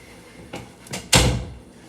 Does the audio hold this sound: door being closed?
yes